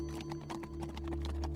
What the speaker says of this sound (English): the soldiers swiftly mounted their horses and the party resumed its journey